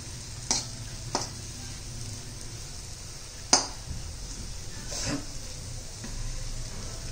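Fenugreek leaves and roasted gram flour cooking together in a pan, a low steady sizzle running throughout with a few sharp metallic taps of a spoon against the pan.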